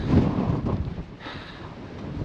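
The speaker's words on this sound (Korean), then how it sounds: "아 바람 엄청납니다" Strong wind roars across the snowy summit of Sobaeksan mountain in winter, a low gusting rush that swells near the start and eases slightly, with no one talking.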